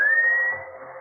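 A single clear, sustained whistle rising slightly in pitch, sounded as a signal in a radio drama, close and alone for about a second.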